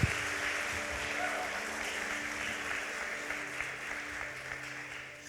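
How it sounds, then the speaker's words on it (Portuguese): A church congregation at a Sunday service applauds, a continuous, even patter of many hands clapping, fairly far off, faint and steady throughout. "pode aplaudir a Jesus"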